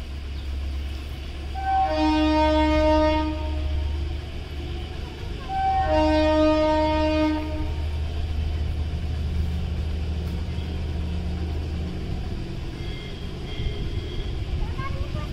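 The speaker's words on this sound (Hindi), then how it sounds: "तो अभी भी ये ट्रेन ही आई है, उसी का हॉर्न बज रहा है ये।" A toy train horn sounds two long, steady blasts a few seconds apart, heard distantly over a low rumbling background.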